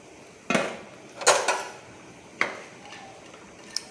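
Lentil cakes (dhoka) are dropped one by one into a pot of boiling water, giving a few sharp clinks and thuds at uneven intervals against quiet kitchen background.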